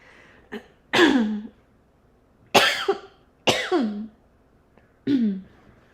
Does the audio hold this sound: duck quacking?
no